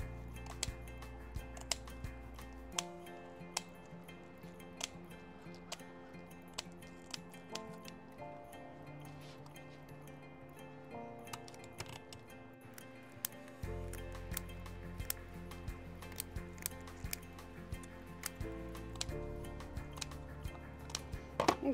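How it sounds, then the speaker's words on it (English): Game shears cutting through a flounder's backbone while the fish is cleaned, with repeated crisp snips and clicks of the blades, close and fairly quiet, over a low steady background without talk. "this is like game shears right here. They work way better for cutting through bone than scissors"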